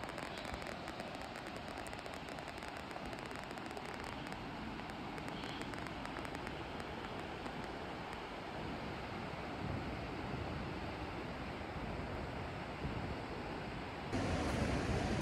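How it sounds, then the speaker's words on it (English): Flowing water along a wilderness hiking route, a steady broad rush like a river or rapids, continuous and fairly loud with no voices, growing slightly louder near the end. "I can hear the water."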